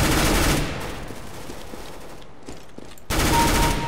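P90 submachine gun fire in Counter-Strike: Global Offensive crackles in loud, sustained rapid bursts, dropping to a quieter rattling stretch before a sharp, dense burst returns; no voices.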